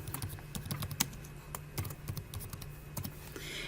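Keys clatter on a computer keyboard as a short swatch name is typed, a quick uneven run of close, crisp clicks with brief pauses and no voices.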